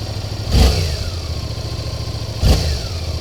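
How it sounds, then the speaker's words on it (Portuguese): A nearby Suzuki 8S motorcycle with stock exhaust idles with a deep, steady rumble, broken by two quick throttle blips about two seconds apart. "ela tem um ronco bem grave, bem gostoso de ouvir."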